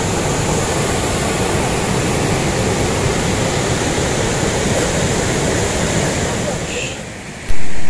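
Duduma waterfall in Odisha roars as a steady, dense wash of falling water, loud and unbroken, dipping slightly near the end before a sudden louder surge.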